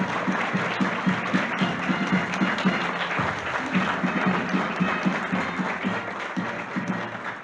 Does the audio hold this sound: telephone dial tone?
no